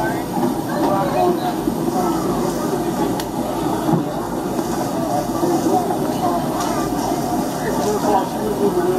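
A Disneyland Railroad train pulls away with a steady low rumble and rolling wheel noise, heard from aboard with faint voices under it.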